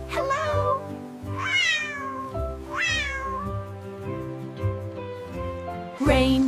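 A cat meows repeatedly, close and clear, with several drawn-out rising and falling calls spaced about a second apart.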